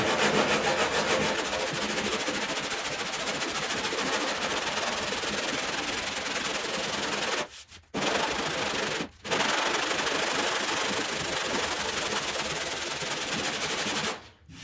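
Steady, continuous rasping of hand sanding body filler, close and loud, with a couple of brief pauses near the end.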